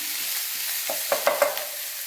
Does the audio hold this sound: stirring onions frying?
yes